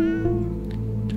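A cat meows in the cat-finding game Hidden Paws, one drawn-out, clear meow heard alone and close.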